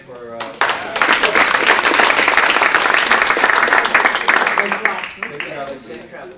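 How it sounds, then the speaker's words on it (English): Audience applause at an e-learning development tools panel, a burst of many hands clapping that rises sharply, holds steady for several seconds and then tapers off, with voices at the start and end. "We have a round of applause for Nick"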